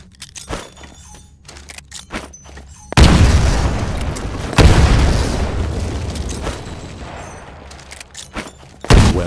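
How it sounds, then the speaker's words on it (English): Grenades bursting in the Titanfall shooter, a sudden loud blast that roars into a sustained rumbling wash, a second heavy burst midway and a third sharp boom at the end, after a quieter stretch of clicks and small sounds. "Throw a grenade into each of the windows."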